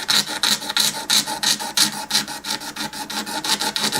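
A Silvertone acoustic guitar fingerboard is sanded across to remove cross-grain scratches, making quick, rhythmic rasping strokes that repeat steadily several times a second, close and clear with no talking.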